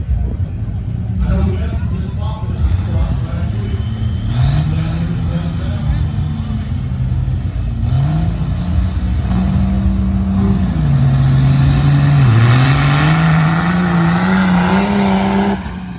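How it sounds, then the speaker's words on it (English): A nitrous-sprayed Cummins diesel truck engine roars loud and sustained at a drag race, its pitch rising and falling as it revs and pulls hard, with a faint voice underneath. "You can hear it when the nitrous comes on. It really comes alive."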